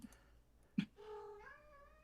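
A house cat gives one short sharp cry, then a drawn-out wavering meow, close and fairly quiet, with no talking over it.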